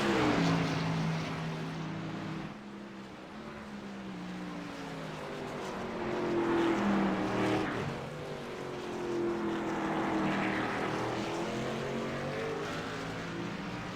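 Race cars circle the track in a stock car race, engine drones rising and falling in pitch as they pass by at mid-distance, several swells over the stretch with no voices.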